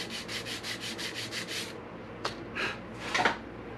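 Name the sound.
sanding sides of guitar headstock with sandpaper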